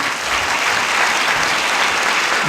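Loud, dense audience applause fills a grand theatre hall at a film premiere, a continuous roar of many hands clapping steadily throughout with no talk over it.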